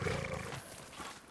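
A wolf growls in the video game Ghost of Yotei, a low rumbling snarl that starts loud and fades over about a second, with no talking.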